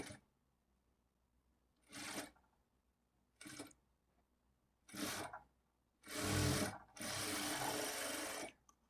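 Sewing machine stitching a blouse in short bursts: several brief whirring runs separated by quiet pauses, the last two longer and louder, with no talking.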